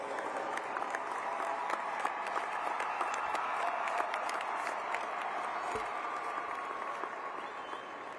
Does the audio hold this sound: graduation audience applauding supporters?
yes